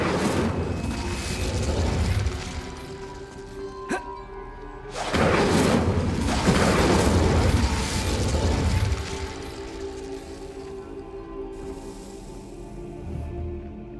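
An Incendio fire spell blasts in the Hogwarts Legacy game, a sharp crack followed by a loud roaring, whooshing burst of flame that swells for several seconds before settling into a lower rumbling bed of game ambience.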